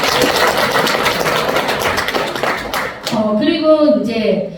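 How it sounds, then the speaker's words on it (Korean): A presentation audience claps steadily and fairly loudly for about three seconds, after which the applause fades as a speaker's voice takes over. "박수 한번 쳐주십시오"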